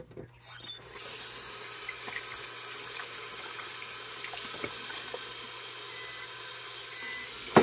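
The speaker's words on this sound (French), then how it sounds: "Je vais prendre de l'eau, puis je vais rincer les roches." Water runs steadily from a tap to rinse rough tumbling stones and crystals, a continuous splashing rush close by after a brief clatter at the start, with no talk.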